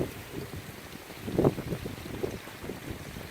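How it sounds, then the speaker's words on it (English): Wind buffets the microphone in low, uneven gusts, with a stronger rush midway, all fairly quiet and with no talking. "So it's getting a little windy."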